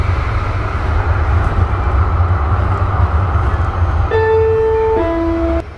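Interior ride on a Siemens U2 light rail car on the Blue Line: a loud, steady low rumble throughout, with stepped electric motor whine tones rising near the end.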